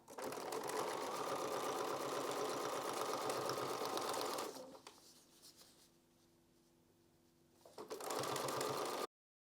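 A sewing machine sews a butterfly quilt block in two close bursts of fast, steady stitching, separated by a few seconds of near quiet with a faint hum before the second run stops abruptly.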